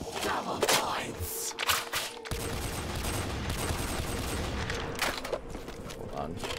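Rapid automatic gunfire from a weapon in Black Ops Zombies, a sustained dense burst filling most of the clip after a few sharper shots, close and loud, with faint talk at moments.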